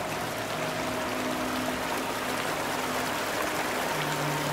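Sloshing and splashing as a character wades through water in the horror game Outlast 2, a steady watery rush throughout with no one speaking.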